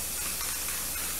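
Painter's Touch primer sprays steadily from an aerosol can in a continuous close hiss, with no talking.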